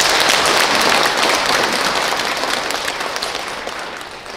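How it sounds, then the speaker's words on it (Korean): Audience applause at a Taego Order Buddhist dharma ceremony marking the inauguration and retirement of the Chungbuk district's head of religious affairs, a dense steady clapping that fades slightly over several seconds with no talk. "여러분 그럼 참 박수로 환영해 주십시오"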